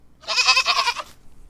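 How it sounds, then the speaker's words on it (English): A goat bleats once in a single wavering, quavering call of about a second, close and clear against a quiet rural background with no talk. "there's just something about hearing a cow, or hearing a goat"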